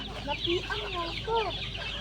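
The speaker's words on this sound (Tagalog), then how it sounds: "Sus, grabe ang manok ko." Farmyard chickens cluck and murmur in a quick run of short calls, close and moderately loud, in a rural backyard flock of native and Red Island birds.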